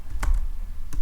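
A few quick keystrokes clack on a computer keyboard, close and distinct, two short bursts separated by a pause.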